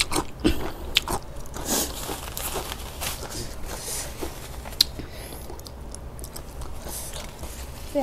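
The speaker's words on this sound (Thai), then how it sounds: "มากินตำอีกรอบนึง" Someone eats spicy papaya salad with field snails up close, with repeated crunchy bites, chewing and occasional sharp clicks over a quiet background.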